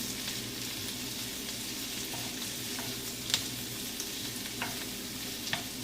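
Tofu and onion frying in a pan while being stirred, a steady close sizzle with a few light scrapes of the utensil against the pan and no voices.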